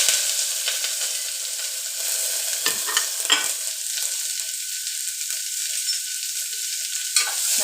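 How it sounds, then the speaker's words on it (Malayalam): Onion and garlic fry in hot ghee with a steady, close sizzle, broken by a few clicks and scrapes of stirring. No one speaks. "നെയ് ചൂടാകുമ്പോൾ ഉള്ളിയും വെളുത്തുള്ളിയും എല്ലാം ഇട്ടു കൊടുക്കും"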